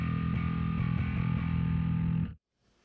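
A distorted, dark electric bass plays a sustained low riff through a Line 6 Helix amp simulator with a modeled D112 cabinet, then cuts off abruptly into silence.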